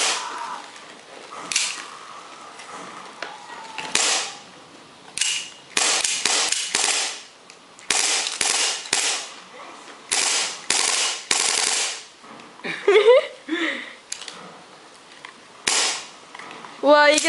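A gas-powered airsoft pistol fires in both automatic and semi-auto, sharp snappy cracks in rapid bursts and single shots, loud and close, with clacking handling noises between strings.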